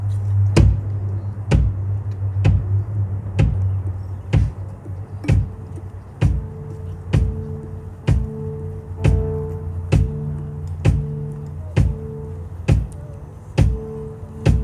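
Drum played live during a storytelling performance, with steady, evenly spaced hits about once a second over a low droning tone and soft room ambience.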